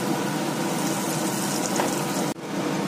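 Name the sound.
battered chillies deep-frying in oil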